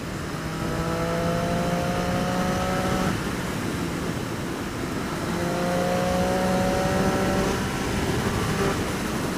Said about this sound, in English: That exhaust sounds freaking lethal.